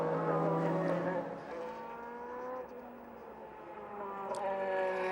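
A DTM race car engine from the 2004 season drones at steady high revs as Ekstrom takes the checkered flag, rising and falling slightly as it passes, with crowd and track ambience around it.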